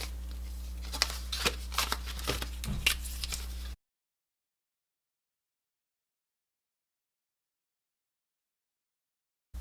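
Paper banknotes are counted by hand, giving a quick run of soft flicks and riffles close by for a few seconds before everything falls silent.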